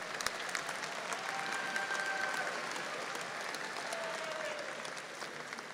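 A commencement crowd at Angelo State University's fall graduation applauds the graduates, a steady, fairly distant wash of clapping that holds evenly throughout, with a faint whistle or two and no speech.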